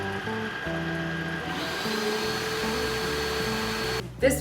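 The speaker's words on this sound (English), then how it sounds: "The Tineco also has a self-cleaning function." A Tineco wet-dry vacuum runs its self-cleaning cycle on its stand, droning steadily nearby with a whirring motor hum and shifting tones, ending with a brief clunk.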